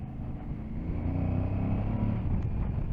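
An Aprilia Tuareg 660 motorcycle pulls in fourth gear as the throttle is rolled open, its engine droning steadily and rising in volume, close and loud with wind rush underneath.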